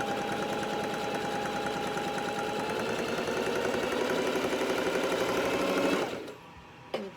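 A sewing machine stitching two layers of fabric, a rapid mechanical whir with fast regular needle beats that runs steadily, then stops abruptly, followed by a brief click.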